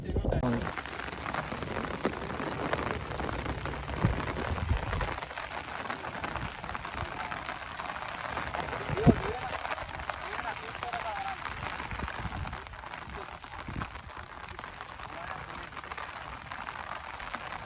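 Rain falls outdoors at an overflowing pond during fishing, a continuous moderate patter that eases slightly toward the end, with one brief louder knock partway through.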